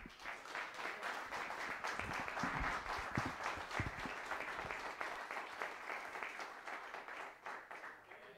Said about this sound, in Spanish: me gustaría dar un fuerte aplauso a...